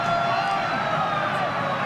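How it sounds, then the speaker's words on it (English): A stadium siren sounds to end the first half of an England v Australia rugby union Test in 2016, a steady wail carried over continuous crowd roar with commentary on top. "There goes the siren."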